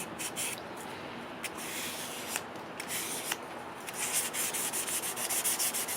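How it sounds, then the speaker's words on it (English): Light hand sanding of a wooden bushcraft knife handle to remove raised grain, a steady soft scratchy rubbing close up with brief strokes and a denser burst near the end, no talk. "I'll give that a really light sand back just to take off any furry bits in the grain"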